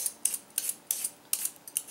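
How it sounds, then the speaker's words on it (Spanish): Squash rind being peeled with a vegetable peeler, heard as about seven short, crisp scraping strokes in a steady rhythm, close and fairly quiet, with no talking. "con un pelapapas, la vamos a pelar como si fuera una papa"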